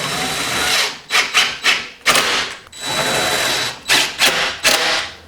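Short 5/8-inch screws driven into plywood with a power driver on a miter saw cart, several quick bursts of whirring with pauses between them, close and loud.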